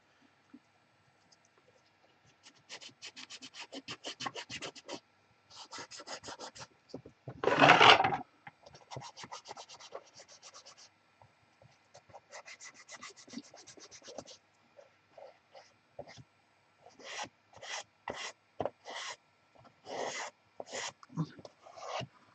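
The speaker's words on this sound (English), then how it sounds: "I'm doing an initial scraping to just get the gunk off the sides" Gunk is scraped off the sides of an object in close, rasping strokes that come in uneven bursts, with one louder, rougher scrape near the middle and quicker repeated strokes toward the end.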